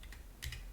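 Brief typing on an old computer keyboard: a few quick, close key clicks in a short burst, alone without speech.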